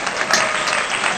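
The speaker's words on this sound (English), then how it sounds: "Claps." A small group claps together to celebrate the winner of a pizza-eating challenge, a steady burst of close applause that fills the whole short moment.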